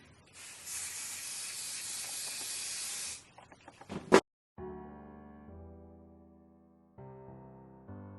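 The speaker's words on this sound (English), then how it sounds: "installing this with my Ebby New York Wonder Lace Bond spray, adhesive spray, one side at a time" A close, steady hiss of an aerosol lace wig adhesive spray lasts about three seconds, then a few short clicks and bursts, followed by music.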